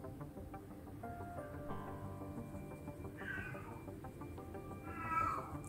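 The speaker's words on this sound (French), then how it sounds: "Vous entendez mon chat" Bagheera, a pet cat, meows and cries in two drawn-out, wailing calls partway through and near the end, fairly close, over a steady low background hum.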